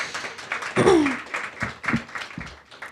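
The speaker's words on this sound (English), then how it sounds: "Little clap." Audience clapping at a dinner reception for 2024 Reporting Fellows in Washington, DC: a short, light round of scattered applause that rises and fades over a few seconds, with a voice heard briefly over it.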